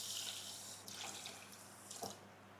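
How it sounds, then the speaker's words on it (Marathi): Water is poured from a cup into an electric kettle with sugar inside, a quiet, close trickle and splash coming in short bursts. "याच्यामध्ये आपल्याला 2 कप पाणी ओतायचं आहे"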